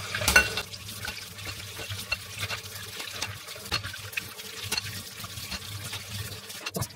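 Seafood being washed by hand in water, with close splashing, sloshing and intermittent clattering knocks in an irregular rhythm, no talk over it.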